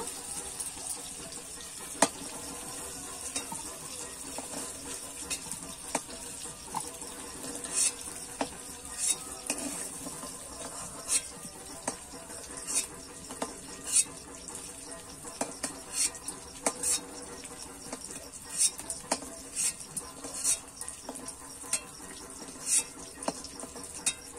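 Potatoes frying in oil, sizzling steadily with occasional scrapes and clinks of a stirring spoon against the pan, close and alone with no voices.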